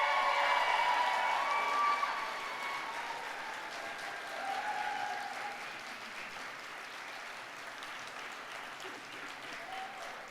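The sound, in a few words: graduates applauding at convocation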